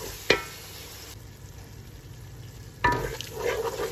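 Dry coriander and ground garam masala roast in a hot pan with a faint background sizzle, broken by two sharp stirring clatters near the start and late in the clip, close by.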